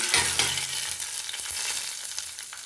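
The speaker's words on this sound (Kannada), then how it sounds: "ಒಗ್ಗರಣೆ ಕೂಡ ರೆಡಿಯಾಗಿದೆ ಹಾಕಿ ಹಾಕ್ಕೊಳ್ಳೋಣ ಅದಕ್ಕೆ" A sharp burst of sizzling as cumin seeds hit hot oil for tempering, crackling loudly at first and then settling into a softer, steady fry.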